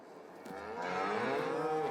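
Cattle mooing in the Farming Simulator 22 video game, a long drawn-out bovine call rising and swelling over about two seconds, loud and close with no talk.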